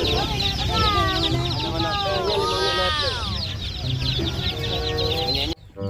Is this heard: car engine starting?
no